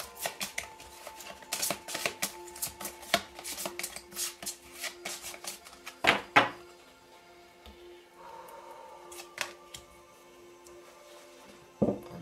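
Tarot cards being shuffled by hand, a quick run of crisp riffling flicks and taps close up, broken by a few louder slaps and short pauses, with no voices over them.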